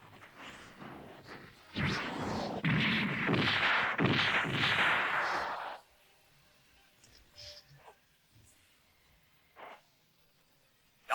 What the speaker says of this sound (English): Oh, now they have laser weapons.